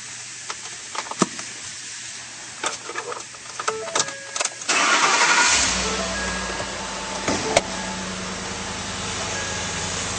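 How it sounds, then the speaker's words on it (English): A 2012 Ford F-150 truck engine cranks and catches partway through, after some clicks and handling noises, then settles into a steady idle that runs to the end, with a brief louder rev. "And now we'll start her up."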